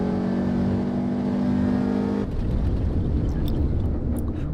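A race car engine in the video game Assetto Corsa Evo, a loud sustained drone at steady revs that cuts off abruptly midway, leaving rougher, lower engine and road noise with faint high tones.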